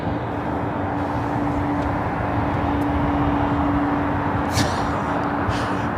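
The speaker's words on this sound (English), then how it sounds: "United 777-200 coming in from Chicago," A United Boeing 777-200 airliner arrives at LAX from Chicago O'Hare, its engines a steady, broad roar holding even across the whole stretch, with a faint whining tone running through it and no talking.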